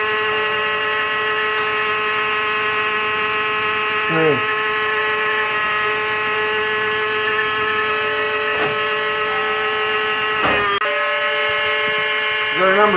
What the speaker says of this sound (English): Almost a 1/4 inch depth of cut there. Takes it no problem, it's brass.